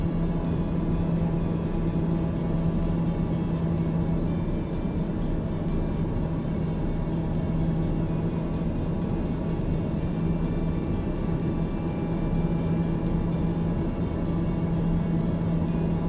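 Steady turboprop drone of a Daher TBM 930 cockpit in Microsoft Flight Simulator 2024, a continuous loud hum with a strong low tone holding level throughout, no voices.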